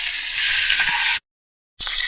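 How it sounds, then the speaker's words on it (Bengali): Turmeric- and chili-coated tilapia fries in hot oil after being flipped, a steady close sizzle broken by a brief silence before resuming. "মাছ একটা হয়ে গেছে, এখন আমি মাছটা উল্টে নিই।"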